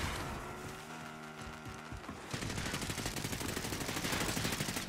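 Rapid gunfire in Call of Duty: Modern Warfare, a steady dense burst of shots taking over halfway through after a droning engine-like hum, loud and continuous with no talk.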